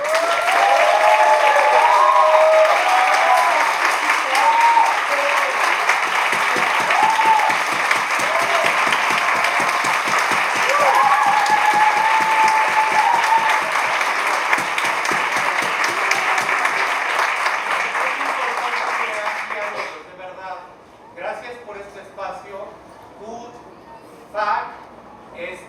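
Sustained audience applause fills the room at a cultural theatre event, steady and loud for about twenty seconds before thinning into scattered claps and a few cheers.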